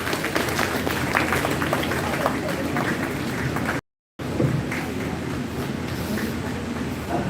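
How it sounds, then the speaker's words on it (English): Sustained audience applause at a talk on understanding ChatGPT, as a speaker is welcomed onto the dais. The clapping is dense and even, with a brief cut of silence midway before it resumes. "Please give her a round of applause."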